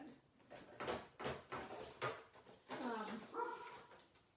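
A dog barks and whimpers in a home right after a drawer is opened, several short yips and barks mixed with a person talking.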